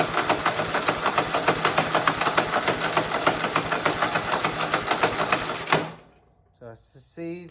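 A Husqvarna 5424 riding mower's small engine idles loudly and steadily with a rapid chugging rhythm, then cuts off abruptly, leaving a few faint clicks and a brief voice afterward.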